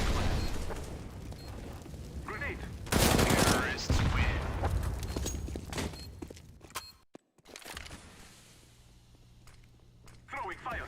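Counter-Strike: Global Offensive gunfire crackles in dense bursts, with a loud volley around the three-second mark, under a player's ongoing talk and game noise.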